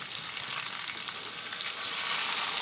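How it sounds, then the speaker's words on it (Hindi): Spiced masala with tomatoes fries steadily in a pan for Hyderabadi beef yakhni pulao, a close, continuous sizzle with soft stirring that swells slightly louder near the end. "ये देखें, मसाले को हम भूनते जाएंगे।"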